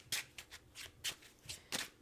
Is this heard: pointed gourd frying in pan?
no